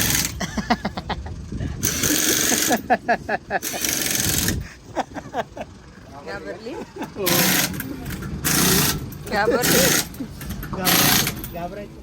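A tire puncture repair machine runs in loud intermittent bursts, rattling and grinding, while people talk nearby over the mechanical noise.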